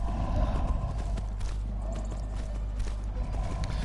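Steady clip-clop of horse hooves at a riding pace in Skyrim Special Edition, with faint whinnies over a low rumbling ambience.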